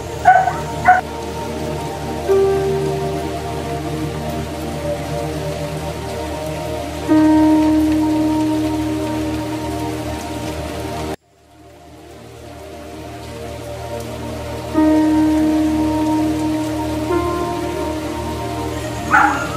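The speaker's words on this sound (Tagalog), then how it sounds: "inabot na kami ng gabi at umuulan po" Rain falls steadily at night in the rural countryside, a constant close patter on surfaces, broken by a few louder bursts and one brief near-silent gap.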